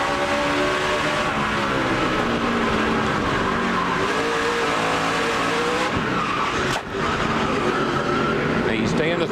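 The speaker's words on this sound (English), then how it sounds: "he cut him off, and Jeff Burton spun his car out" NASCAR stock car spinning out during the 2006 Food City 500 race, a loud sustained engine roar with tire squeal under continuous commentary, with a brief dip near the end.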